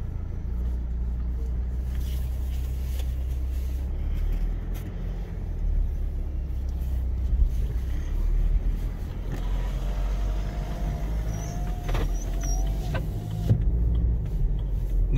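A BMW X3 20d xDrive F25 diesel SUV with a 184 hp engine and automatic gearbox pulls away, giving a low, constant engine rumble heard from inside the car, with faint whining tones creeping in later.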